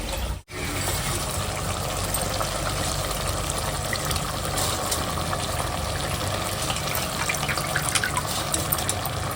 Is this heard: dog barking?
no